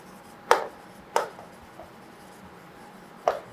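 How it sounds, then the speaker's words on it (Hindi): Pen or pencil writing odd numbers by hand on paper during a class 5 maths lesson, three short, crisp scratching strokes spaced apart, close and quiet. "यहाँ पे नीचे ऑड नंबर्स लिखेंगे"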